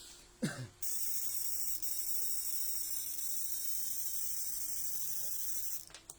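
A steady electrical hum with a high whine from a blower runs unbroken for several seconds after a brief knock at the start, then cuts off near the end.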